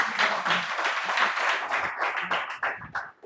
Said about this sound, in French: Acclamez pour moi.